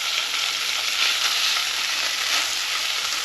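Duck breast renders in its own fat in a frying pan, giving a steady, dense sizzle that stays close and loud and never lets up, with no voices over it.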